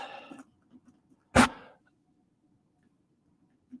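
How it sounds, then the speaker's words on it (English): A single sharp dog bark or yelp rings out once, loud and close, standing alone after a faint voice fades; the rest is quiet room tone with a soft thump at the end. "That's my dog."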